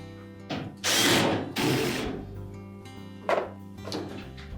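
Fasteners being tightened on a Whirlpool dryer blower wheel give a few short mechanical clicks and thunks in uneven bursts, close and fairly loud, with two stronger bursts followed by two fainter ones.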